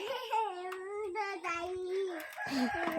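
Hens cluck and squawk up close in short excited bursts, with a voice briefly mixed in.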